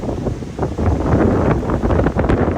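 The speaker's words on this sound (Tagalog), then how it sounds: "sobrang lakas po ng hangin" Strong typhoon wind gusts buffet the microphone atop the Chocolate Hills in Bohol, a loud, constant roaring rush with rustling, no talking.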